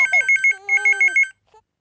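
A telephone rings with a bright, warbling electronic bell in two quick bursts of pulses, close and loud, then stops and goes unanswered in a quiet room.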